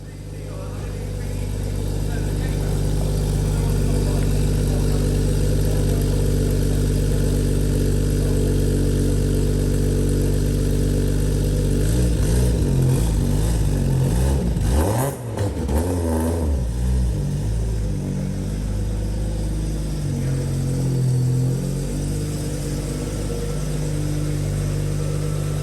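Jaguar XJS V12 engine runs with a steady low drone while driving on the road, shifting in pitch mid-way as it accelerates, with someone talking over it at times.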